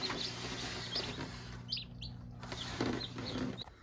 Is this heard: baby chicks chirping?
yes